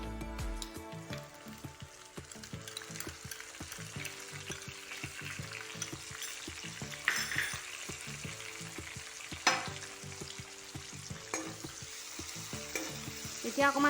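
Spice paste frying and being stirred in a wok with onions for a pointed gourd and mung dal curry: a close, continuous crackling sizzle with scraping stirs and occasional louder pops, no voices.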